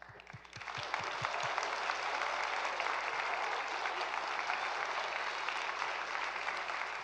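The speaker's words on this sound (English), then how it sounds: "Big round of applause." Audience applause at a climate change symposium in Kingston, a dense, steady wash of clapping that swells up after a brief quieter start and holds loud and full for several seconds, with a faint low hum underneath.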